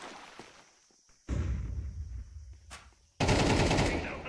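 Counter-Strike 2 gunfire, including a P90: two sudden bursts of rapid shots that cut sharply into a quieter stretch of game sound.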